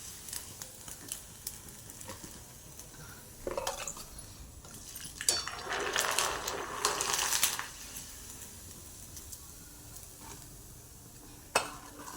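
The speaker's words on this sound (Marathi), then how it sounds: "आता आपण पापडी तळू" Papdi frying in hot oil in a home kitchen: a quiet, continuous sizzle with occasional stirring and scraping of the pan, plus a brief sharp clink near the end.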